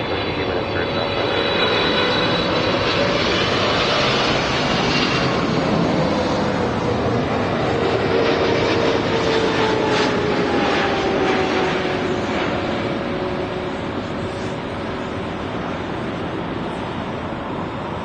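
An airliner taking off on runway 24 left at Los Angeles International Airport, its loud, sustained engine roar rising and shifting in pitch, with voices over the noise.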